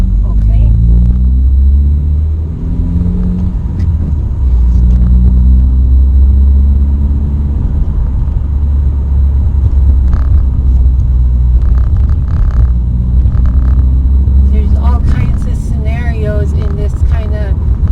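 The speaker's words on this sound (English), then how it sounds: "I'm gonna rev it up, clutch out." A manual car downshifting in street traffic, its engine droning low and steady, then swelling as the clutch is worked and revs are matched, with a driver talking over the rumble throughout.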